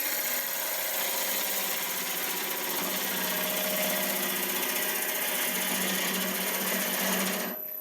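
A wood lathe spins a natural edge olive bowl as a tool held on the tool rest squares the bottom, giving a steady loud motor whine with scraping cut noise that cuts off abruptly at the end.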